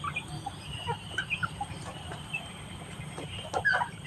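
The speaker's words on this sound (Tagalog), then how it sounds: "Magpakain muna ako ng ating manok" Chickens cluck in short, scattered bursts while being fed, over a steady outdoor hum, with a few sharper squawks near the end.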